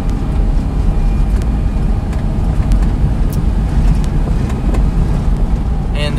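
A Daihatsu 4x4 Japanese mini truck with a five-speed gearbox cruising in fifth gear, a steady loud engine and road drone with wind noise, heard from inside the cab.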